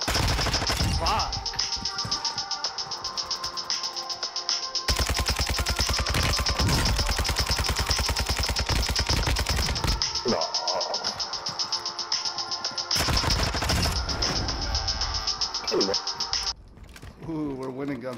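Gunfire in Warzone 2 gunfights, long sustained automatic bursts in loud, dense rattling stretches broken by short pauses, with players talking over it.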